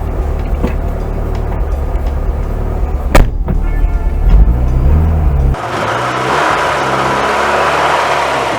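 A car engine that sat unused for a year with stale fuel and a bad coil pack runs loud and close, rising in revs before settling into a rougher steady drone.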